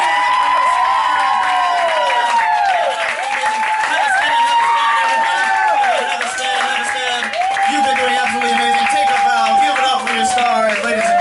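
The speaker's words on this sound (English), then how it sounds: "All this applause is for you!" A high school hypnosis show audience bursts into loud, sustained applause mixed with cheering and high whoops, continuing without a break.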